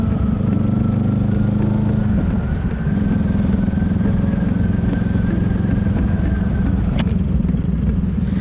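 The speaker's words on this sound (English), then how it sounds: "I'm loving how my exhaust sounding" A Honda Rebel 500 motorcycle with an aftermarket exhaust rumbles steadily throughout at idle or low revs, the deep exhaust note dominating, with a slight change in tone partway through.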